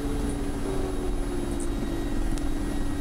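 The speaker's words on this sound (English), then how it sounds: "Hear the APU go down." Auxiliary power unit of a Mi-24P Hind attack helicopter in the flight sim DCS World winding down, a steady low drone with a constant hum and faint high whine that holds loud and continuous throughout.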